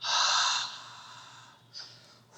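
A person exhales deeply, a long breathy whoosh lasting over a second, followed by a shorter quieter breath, close and clear with no talking.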